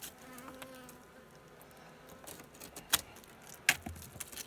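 A bee buzzes faintly around a log hive during a wild honey harvest outdoors, a thin intermittent drone mixed with handling noises and a couple of sharp metallic clicks.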